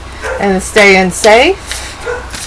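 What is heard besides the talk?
dogs barking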